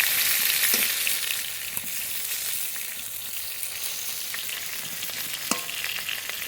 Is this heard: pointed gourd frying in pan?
yes